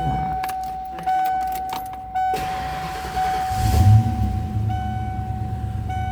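Keys jangle in the ignition of a 1992 Ford Mustang Convertible Summer Edition, a chime tone rings, then the engine cranks and catches into a steady close idle rumble.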